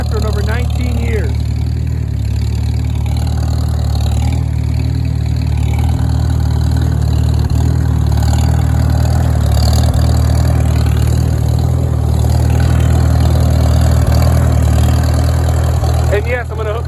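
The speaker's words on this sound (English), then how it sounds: "This is the first drive of this tractor in over 19 years." A Farmall H tractor that sat unused for 19 years chugs steadily while driving, a loud, close, continuous low engine rumble with someone talking over it.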